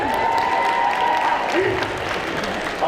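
Audience applause at a cosplay contest during a Bordeaux geek convention, a steady, dense wash of clapping filling the whole moment, with a voice faintly audible underneath.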